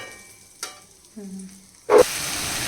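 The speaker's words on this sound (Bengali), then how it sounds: "এখানে দেখো ফুলকপির আলুটাকে কষাচ্ছি মশলা দিয়ে" Potatoes for a cauliflower curry fry with spices in a pan. A few quiet clinks and a brief tone come first, then a sudden loud burst of sizzling hiss carries on to the end.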